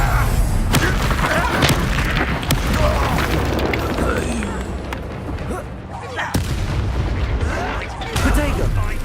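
Fiery Confringo spell blasts in Hogwarts Legacy, a string of loud booming explosions and thuds over dense game sound, with a voice talking at moments.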